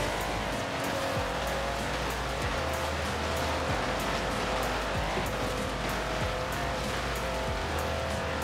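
A Mercedes G63 6x6 engine drones steadily while driving in Forza Horizon 4, a loud, continuous vehicle roar with a constant mechanical hum and faint rhythmic ticking throughout.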